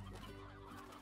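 A hen clucks in the video game Slime Rancher, soft, fowl-like calls repeating over a faint, steady background hum.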